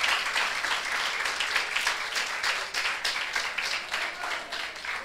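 A congregation at a Spanish-language church sermon bursts into steady, full applause that fills the space and holds at an even level throughout.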